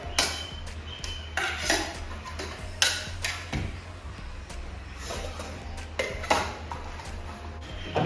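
A camping nesting cookware set being folded and stacked, with repeated metallic clanks, knocks and rattles of pots and pans nesting into one another, close and fairly constant.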